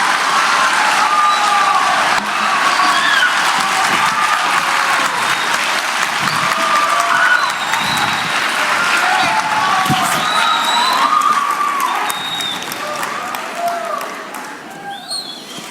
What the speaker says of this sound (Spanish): Fuerte el aplauso para recibirla.